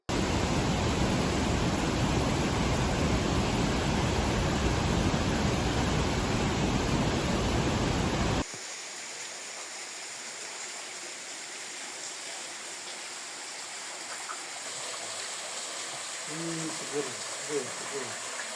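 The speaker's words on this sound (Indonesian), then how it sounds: "kali ini saya berada di badan sungai, tepatnya aliran sungai Kali Takir" The Kali Takir river flows in a steady broadband rush at first, loud and close, then drops abruptly to a softer, more distant water hiss with faint chirps near the end.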